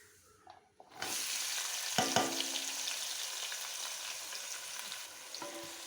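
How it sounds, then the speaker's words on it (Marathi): Sliced onions hit hot oil for a Kerala-style spicy chicken curry, starting a sudden loud sizzle after a quiet moment. A steady frying hiss then continues, with a couple of metallic scrapes as the onions are stirred. "कांदो हांवें फूल स्लायसीस जे केल्ले पळय न्ही ते घातला आनी आमी अशें स्टर करपाक जाय."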